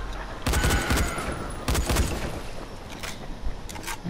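Gunfire in the video game Dying Light, several loud bursts of rapid shots in quick volleys with brief pauses between, no talk over them.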